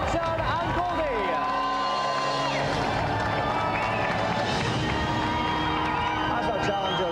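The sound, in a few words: studio audience applauding and cheering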